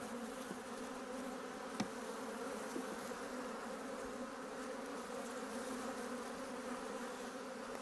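Honey bees drone steadily around an open hive during an inspection, a dense, continuous buzz that stays close and even for the whole stretch, with a few faint knocks and no talking.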